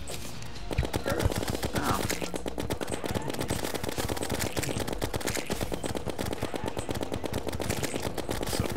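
Rapid, steady gunfire from the Terraria video game, a dense automatic stream of shots that runs loud and unbroken throughout.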